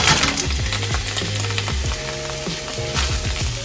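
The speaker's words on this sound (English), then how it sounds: "Now we can go ahead and add the shrimp." Shrimp hitting a hot pan and sizzling steadily, a loud continuous frying hiss with low tonal music playing underneath throughout.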